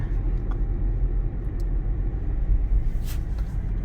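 A car turning around on a road after new brake pads and rotors were fitted, heard from inside as a steady, loud, low engine and road rumble with no talking.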